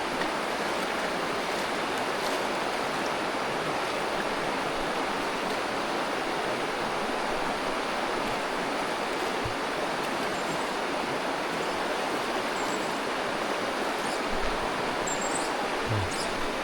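Steady broadband rush of a deep river flowing as a man rides his bathed horse across to keep it from sinking, a continuous even wash of water with no talk over it.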